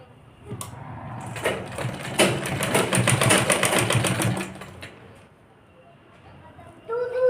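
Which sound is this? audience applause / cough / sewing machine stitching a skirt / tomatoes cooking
sewing machine stitching a skirt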